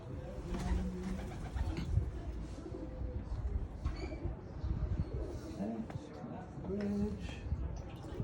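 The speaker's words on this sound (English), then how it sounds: "Look out for the wooden beams, the pigeons, live upon them." Pigeons coo among wooden beams in a few low, soft bursts, with people talking and moving close by.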